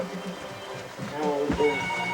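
A mobile phone rings briefly with a repeating electronic tone over casual conversation nearby.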